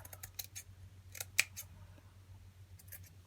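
Scissors trim small bits of material while making a hardback journal, a handful of short, close, quiet snips in quick irregular bursts over a low steady hum.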